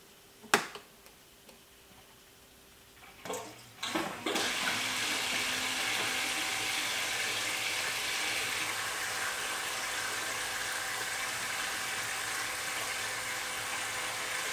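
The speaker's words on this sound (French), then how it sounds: "je vais mettre en route la pompe de remontée" A few sharp clicks, then a reef aquarium return pump starts and water begins rushing and splashing steadily, a continuous hiss that carries on to the end.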